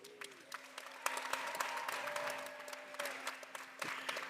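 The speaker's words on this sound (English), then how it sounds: "let's give all of those connections a round of applause" Steady applause from a university graduation audience fills the clip, clapping continuing at an even level throughout with a faint tone lingering underneath.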